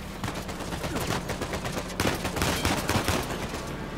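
Rapid bursts of gunfire in the video game Uncharted 4, a dense crackle of overlapping shots and automatic fire that keeps going throughout, loud and close, with no talk over it.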